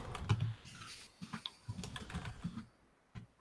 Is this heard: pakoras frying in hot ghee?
no